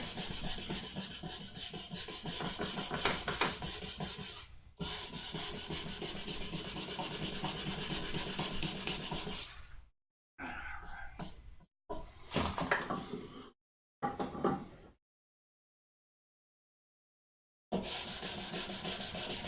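Wood rubbed by hand with 150 grit sandpaper, long stretches of rapid back-and-forth scratchy strokes close up, then shorter bursts separated by pauses and silence before the sanding resumes; no talking.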